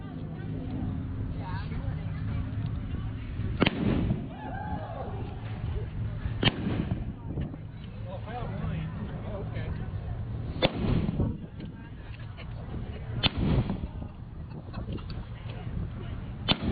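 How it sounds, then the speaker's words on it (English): Someone talks over an outdoor crowd at a weapons demonstration while a bolt-action Arisaka rifle fires several sharp, distant cracks spaced a few seconds apart. "That's the Arisaka rifle."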